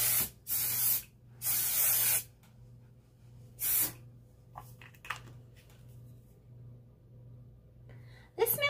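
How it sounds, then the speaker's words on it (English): Several short bursts of aerosol hair spray hiss close by, three or four sprays separated by pauses, with faint low hum and small handling noises between. "So I'm just going to spray it lightly all over"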